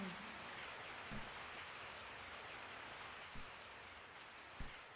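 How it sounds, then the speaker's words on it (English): Steady rain falling at night in the Resident Evil 3 video game, a constant soft hiss filling the scene with a few brief louder knocks or thumps breaking through. "I woke up to the sound of falling rain."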